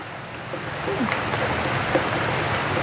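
Steady rain falls outdoors during a wet spell in rural Thailand, a continuous soft hiss of drops with a few faint scattered sounds in the background.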